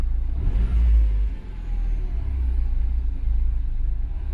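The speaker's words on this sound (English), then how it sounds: "Right now the car is stumbling a little bit." A car engine idles low and steady close by, its deep rumble dipping and surging unevenly as it stumbles and hunts for a stable speed.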